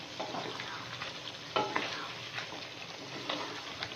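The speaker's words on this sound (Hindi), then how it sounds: "अब हम इसे मिक्स कर लेंगे।" Chicken and broad beans (rawan ki phaliyan) sizzle steadily in a pan while being stirred, with a few louder scraping strokes of the spoon against the pan over the constant frying hiss.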